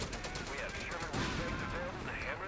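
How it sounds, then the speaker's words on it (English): Heavy machine gun fire rattles in a Company of Heroes 3 match, dense bursts of automatic shots running through the whole stretch amid battle noise, with talk present. "Heavy machine gun trying to put a stop to this fuel capture"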